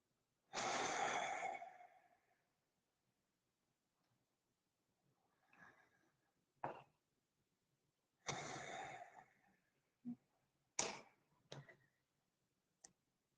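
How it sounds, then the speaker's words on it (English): Slow, deep breaths during a yoga flow class: a long, airy exhale near the start, softer breaths in between, and another deep breath later, heard alone in a quiet room with a few small ticks. "few more breaths"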